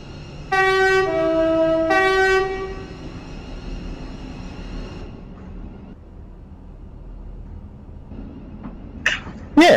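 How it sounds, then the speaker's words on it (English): A South Western Railway train horn gives two short blasts, followed by the low rumble of the train running along, with a few sharp clicks near the end. "Yeah, so it's good to drive a train like this."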